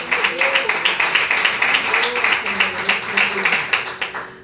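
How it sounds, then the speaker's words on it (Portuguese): Church congregation clapping in steady rhythmic unison, distinct regular beats repeating throughout while voices and music sound underneath. "Aplauda o Senhor com o seu melhor nessa hora"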